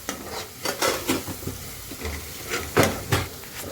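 A spoon stirs coriander powder and spices through chicken in a cooking pot, giving soft irregular scraping and clinks against the pot over a low sizzle, quiet and close.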